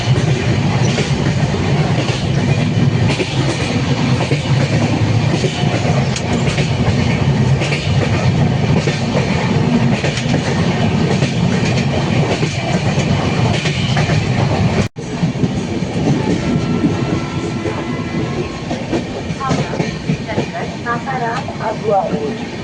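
A passenger train rumbles across the Son river bridge, a loud, continuous rolling roar of wheels on rails with a steady rhythmic clatter throughout, easing slightly toward the end.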